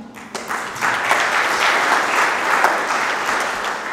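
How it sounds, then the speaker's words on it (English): A church seminar crowd claps steadily and enthusiastically, a dense wash of applause that holds strong for several seconds without fading. "Can we give the Lord a mighty hand for Sister Bernie?"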